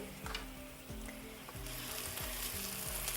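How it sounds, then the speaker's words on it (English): Portobello mushrooms with garlic and pepper sizzle in a pan over a medium flame, a steady frying hiss broken by repeated scraping strokes as the pieces are pushed around, close and fairly soft. "move these portobello mushrooms around a little bit in the pan to get it uniformly cooking"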